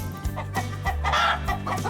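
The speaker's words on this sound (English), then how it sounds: "Prize chickens here." Prize chickens cluck repeatedly at close range, with short rhythmic bursts and a brief crow-like call, loud and clear with no talk over them.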